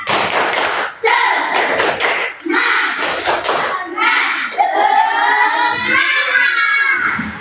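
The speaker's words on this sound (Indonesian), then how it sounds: "Tepuk semangat" Schoolchildren in a fifth-grade class do a rhythmic spirit clap, striking a quick patterned series of loud claps and thumps with chanted voices. After a short pause a teacher's voice carries on talking.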